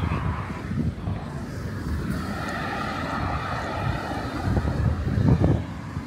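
Cool evening wind buffets a handheld microphone outdoors, a continuous low rumbling roar with gusty swells and no speech.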